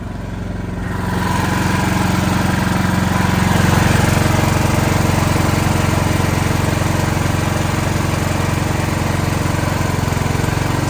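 A generator engine runs in eco mode at steady low revs, a loud, constant droning rumble that starts up in the first second and then holds even, with no voices.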